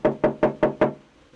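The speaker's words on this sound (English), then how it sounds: "Okay, got the knock." Five sharp, evenly spaced knocks on a door, close and loud, followed by quiet.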